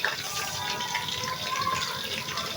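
Onions tipped into hot, browned fat for kabuli pulao, giving a steady, moderately loud hissing sizzle that holds without a break.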